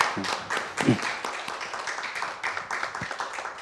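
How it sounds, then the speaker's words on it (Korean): An audience at an indoor peace and unification forum claps, giving a loose patter of hand claps that rises to a brief louder burst and then thins into scattered claps, with faint background murmur. "다시 한번 그 수고해 주신 우리 5분께 큰 박수 보내주십시오."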